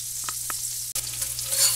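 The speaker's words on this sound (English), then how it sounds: "I'm going to add my onions and garlic" Onions and garlic sizzling in butter in a pan, a brief close crackling hiss with a couple of light stirring scrapes and a short break before the frying noise resumes.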